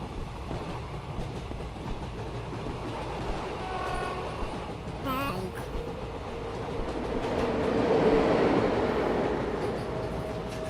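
A train in the video game Anant Express rumbles along its rails with a steady, loud rolling roar, a horn-like tonal whine rising briefly midway and the noise swelling toward the end.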